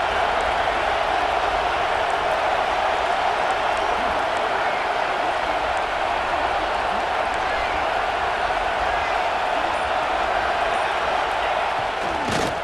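A college football video game stadium crowd roars steadily for over ten seconds in the red zone, a dense continuous wash of cheering with a louder burst near the end.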